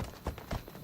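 Horse hooves clip-clop in a quick steady rhythm as a horse is ridden in Assassin's Creed Odyssey, a few distinct thuds over a dense, noisy game soundtrack.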